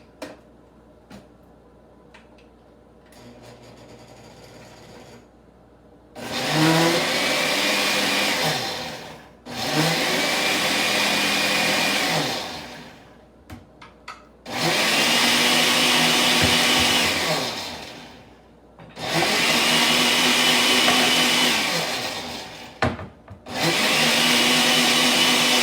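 Kitchen blender whirring through chopped summer salad vegetables with yogurt, salt and pepper: several loud bursts of motor roar, each a few seconds long with the pitch rising and falling, separated by short pauses.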